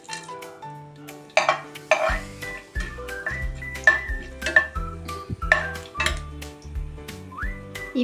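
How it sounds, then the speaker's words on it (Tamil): Mustard seeds and chana dal dropped into hot oil in a kadai for a potato roast, a soft crackling sizzle with stirring clinks, under quiet background music. "எண்ணெய் காஞ்சிருச்சு. இப்போ கடுகு கடலைப்பருப்பு சேர்த்துக்கலாம்."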